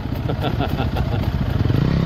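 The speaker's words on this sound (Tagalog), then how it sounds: "Grabe lalakas sa motor." Loud motorcycle engines rumble and idle steadily close by in San Mateo, a dense continuous roar with voices mixed in underneath.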